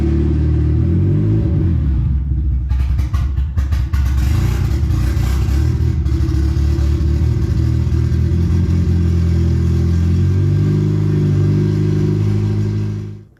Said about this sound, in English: Now we can start the car and get it warmed up.